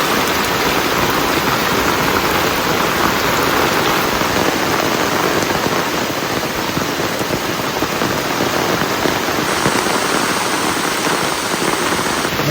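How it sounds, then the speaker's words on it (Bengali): Heavy monsoon rain pours steadily in a village setting, a dense, loud, unbroken hiss of drops hitting the ground and surfaces with no let-up. "আজকে আবার বৃষ্টি শুরু হয়ে গেছে"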